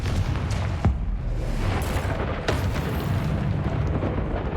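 A Confringo fire spell explodes in Hogwarts Legacy, a dense, roaring burst with deep rumbling that stays loud and sustained throughout, with a few sharper cracks cutting through.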